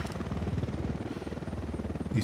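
A helicopter in the video game Ghost Recon Wildlands gives off a steady pulsing rotor thrum, fairly close and continuous, with a brief louder burst near the end.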